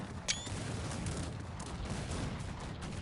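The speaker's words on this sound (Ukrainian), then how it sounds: "тут дуже багато драгунів, які дуже гарно настрілюють" Massed musket fire from dragoons in the video game Cossacks 3 makes a dense, continuous battle crackle, with one sharper report near the start standing out above the steady rumble.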